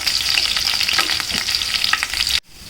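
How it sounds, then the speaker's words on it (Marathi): Cumin seeds and chopped green chillies tempering in hot oil for a garlic vegetable dish, giving a loud, steady, close sizzle with stirring throughout that cuts off abruptly just before the end. "चांगला चमचा दीड चमचा जिरं टाकायचं त्याला चांगल्या तळतळीत फोडणी येऊन द्यायची"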